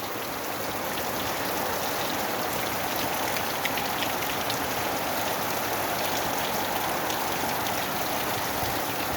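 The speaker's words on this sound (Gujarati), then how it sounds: "પવન જરી નથી, શાંત વરસાદ વરે છે." Gentle, windless rain falls steadily in the season's first shower in Bhayasar village near Rajkot, a dense even patter on surfaces with no gusts or pauses.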